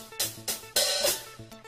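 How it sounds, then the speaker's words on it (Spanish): Hi-hat cymbal on a drum kit played during a children's TV show demonstration: three or four sharp, bright, hissing hits over a soft background melody. "Este es el platillo de pie."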